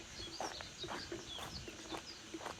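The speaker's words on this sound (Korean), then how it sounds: "이런 분위기고 새소리가 너무 좋았어요" Birds chirp and twitter in short, faint bursts beside a mountain hiking trail, with soft rustling background noise and no voices.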